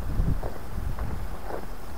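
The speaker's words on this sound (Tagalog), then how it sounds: "Grabe yung hangin." Wind buffets the microphone in a constant low rumble, with a steady breathy rush underneath and no voices.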